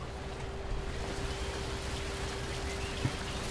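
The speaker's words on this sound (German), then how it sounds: "Es regnet." Steady soft hiss of rain falling in a bus simulator video game, a continuous wash of drops with a faint constant hum underneath and one brief knock near the end.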